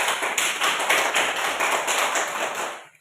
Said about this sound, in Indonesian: Ya, beri tepuk tangan untuk kelompok 3.